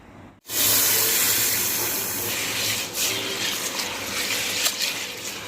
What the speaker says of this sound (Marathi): ही बाजरी दोन किलो आपण घेतलेली आहे ती स्वच्छ धुवायची दोन तीन पाण्यामध्ये